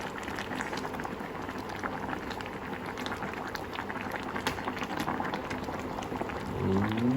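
A pot of Thai bamboo shoot curry at a rolling boil, continuous dense bubbling and gurgling heard close up, with a faint voice near the end.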